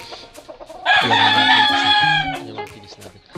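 A rooster crows loudly and close by in a backyard flock, one long drawn-out call, while hens cluck softly around it before and after.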